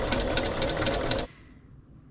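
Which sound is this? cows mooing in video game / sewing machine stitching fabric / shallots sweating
sewing machine stitching fabric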